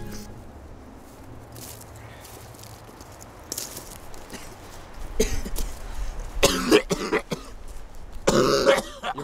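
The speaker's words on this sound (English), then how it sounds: "You're coughing a lot." A person coughs repeatedly in harsh, throaty bursts that grow louder and closer toward the end, after quieter rustling and scattered small noises, with no talking.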